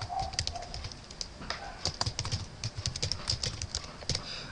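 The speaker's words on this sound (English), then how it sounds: "they have us type in some words" Someone types words on a computer keyboard, and the keys give a steady run of light, close clicks with irregular rhythm and no talking.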